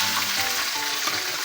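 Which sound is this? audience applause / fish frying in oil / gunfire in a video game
fish frying in oil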